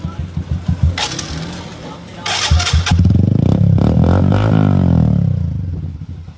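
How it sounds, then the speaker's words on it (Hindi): Bajaj Platina 110 motorcycle with a modified exhaust starting up: a few cranking chugs, then the engine catches and revs hard up and down, loud and close. "साउंड एक बार मैं दोबारा सुनाता हूँ आपको।"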